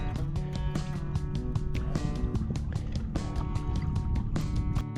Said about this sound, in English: Paddling past our island.